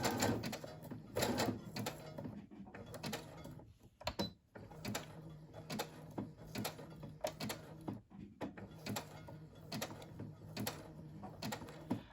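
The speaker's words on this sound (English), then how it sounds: "doing the zigzag stitch will help it to show up just a little bit more" A sewing machine stitches a zigzag while a small fabric envelope is made. It gives a soft, faint mechanical whir with rhythmic clicking bursts, broken by a few brief pauses.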